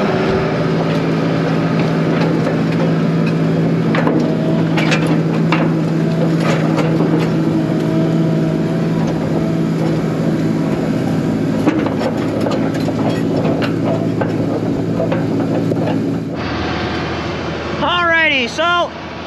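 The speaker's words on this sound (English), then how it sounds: "I'm gonna let the tractor warm up and then I'm gonna get going up to the field" A farm tractor engine runs steadily, warming up before heading to a field to disc oats and alfalfa. The drone stays loud and close, then drops away near the end as other sounds take over.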